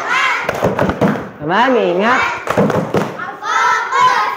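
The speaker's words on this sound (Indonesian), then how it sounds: "Tepuk fokus." A school class does a rhythmic 'tepuk fokus' focus clap, with sharp claps in short bursts mixed with children's and a teacher's voices, including a brief sung chant.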